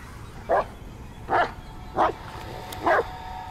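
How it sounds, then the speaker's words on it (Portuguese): A dog in the video game Blair Witch (2019) barks four times in a steady rhythm, short sharp yips spaced about a second apart over a quiet background. "Totó, tudo você tá latindo"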